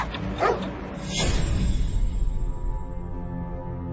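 A dog gives a couple of sharp, fairly faint barks early on, followed by a steady low background rumble.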